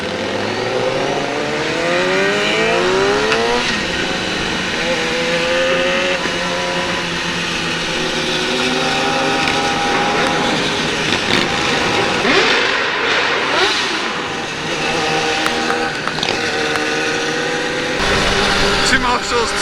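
Sport bikes such as a Kawasaki ZX-10R and new Yamaha R1s on a large charity group ride, engines droning and revving loudly with rising and falling pitch as machines pass nearby, under continuous wind rush.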